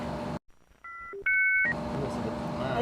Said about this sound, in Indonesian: Kan di bip. ini sama editor.